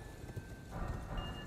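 Horse hooves clopping in a quick, faint rhythm as a mount gallops across open ground in the video game Elden Ring, a brief burst of soft thuds.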